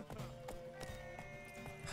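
Horse hooves canter in The Witcher 3, a quick steady rhythm of clopping beats close by over soft game music.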